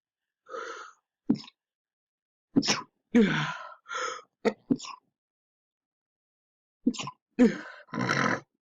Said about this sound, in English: I do have allergies, so sorry if I keep sneezing